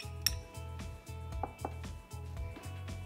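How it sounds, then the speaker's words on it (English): Chopped tomatoes, garlic and red onions going into a bowl of guacamole, with soft clinks and scraping of a utensil against the bowl, repeated in a steady rhythm, close and quiet. "all that's left is to add 1 cup of chopped tomatoes, a tablespoon of chopped garlic, 1/2 cup of chopped red onions"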